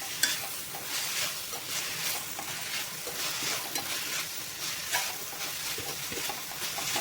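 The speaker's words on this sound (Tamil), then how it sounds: "ஒரு நிமிஷத்துக்கு எண்ணெயிலே கலந்து விட்டுக்கோங்க" Cooked chana dal is stirred in hot oil in a pan, giving a steady close sizzle with soft, rhythmic scraping from the stirring throughout, and no speech.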